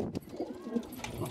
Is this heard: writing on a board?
no